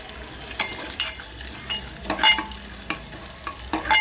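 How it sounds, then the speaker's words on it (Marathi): Whole spices (kadakta) dry-roasting in a pan for an egg curry masala, with a soft continuous sizzle broken by repeated scraping strokes of a spoon stirring them, close and moderately loud with no talking. "मी तुम्हाला दाखवते आपला कडकता भाजून घेते"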